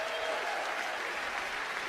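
A studio audience at a comedy show claps steadily, a dense and even wash of applause that holds at one level for the whole moment, with no voices over it.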